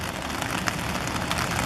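Pouring rain drumming steadily on city surfaces, a dense, even hiss close to the microphone with no talking.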